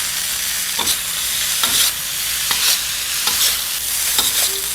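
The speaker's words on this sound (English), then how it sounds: "Give it a good stir." Bengali royal rice, pushpanna, stirred in a pot: a steady frying hiss with regular spoon scrapes and knocks about once a second, close and clear, with no voices.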